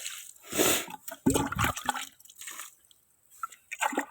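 A glass dipped into a container and a little water tipped out on a farm, a few short splashes and drips at close range, separated by quiet pauses.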